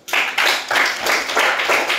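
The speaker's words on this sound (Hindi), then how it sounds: "ताली बजा दो भले से" Hands clap in a steady, loud rhythm, about five or six sharp claps from a group in quick even succession, close and clear with no talking over them.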